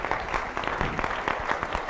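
An audience claps in steady, dense applause for a woman at a Spanish-language talk, continuous and fairly loud for the whole stretch with no voices over it.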